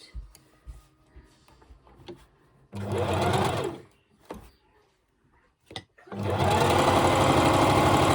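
A sewing machine stitches a washable fabric face mask in two loud, steady bursts, the first around three seconds and the second longer, separated by quieter handling clicks and pauses at close range.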